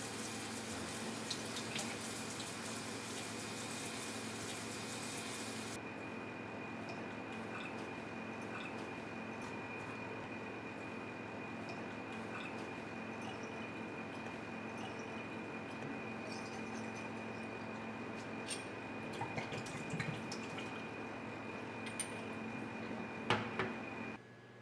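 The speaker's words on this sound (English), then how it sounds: "clean and wash the sample bottle or container thoroughly and rinse with" Steady running water from a tap with small splashes and clinks as a water sample bottle is rinsed in a lab, continuous and close, no voices.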